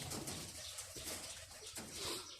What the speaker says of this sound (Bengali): কবুতর এখানে অনেকগুলো রয়েছে